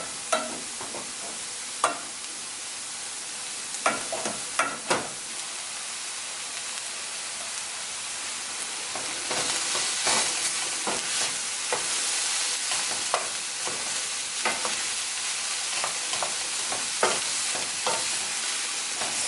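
A millet and vegetable stir fry is stirred in a pan, giving a steady frying hiss broken by scraping and clattering strokes of a spatula, with no talking.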